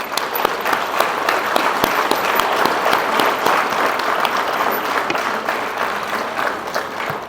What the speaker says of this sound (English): For that, a round of applause.